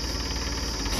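A tractor engine runs steadily nearby, a dense, loud, rumbling drone with a fast mechanical knock and vibration throughout, without speech.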